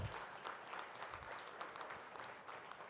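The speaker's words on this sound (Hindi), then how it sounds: "रणजीत जी और श्याम जी के लिए भी ताली बजनी चाहिए भी जोरदार" Audience at a conference inaugural session applauding, a steady wash of clapping from a large crowd that runs without a break.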